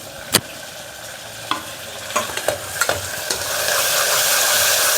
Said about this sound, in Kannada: ಟೊಮೆಟೊ ಮತ್ತು ಈರುಳ್ಳಿ ಚೆನ್ನಾಗಿ ಅದು ಫ್ರೈ ಆಗಬೇಕು.